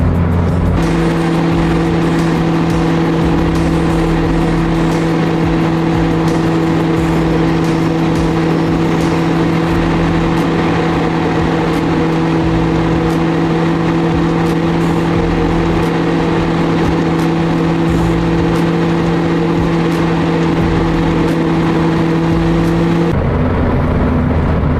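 A classic car idles at an outdoor car show, its engine holding a steady, loud, even drone with no revving for over twenty seconds, then cutting off abruptly near the end.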